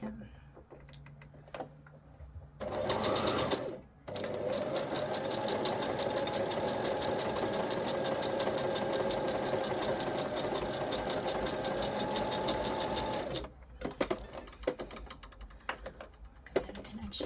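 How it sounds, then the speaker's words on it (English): A small sewing machine stitching fabric while skipping stitches runs in a loud, steady mechanical whir for about ten seconds, with brief clicks and handling noises before and after. "when this machine is skipping stitches"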